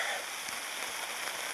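Rain drumming on a camping tent after hours of nonstop rainfall, a close, even hiss of drops on the fabric with no voices.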